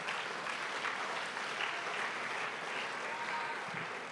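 Applause from a church congregation during a Sunday service, a dense, even wash of many hands clapping that holds steady, moderately loud and without talk, before easing slightly at the end.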